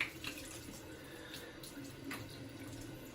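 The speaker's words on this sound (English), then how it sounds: "Cold water rinse this off." Cold water runs steadily from a tap for a rinse during a wet shave, a soft continuous splashing wash that stays fairly quiet for the whole stretch with no talk over it.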